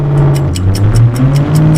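A simulated Lamborghini Urus engine sound, played through a THOR Active Sound system on a Mercedes CLS-Class W257, revs in short, rising bursts with a rhythmic pulsing, loud and close.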